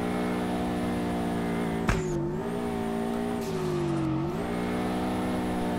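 A Subaru BRZ drifting in the game DRIFT21, its engine revving high and steady with pitch dips during slides and a short tire-squeal burst near two seconds, loud and close with no voices.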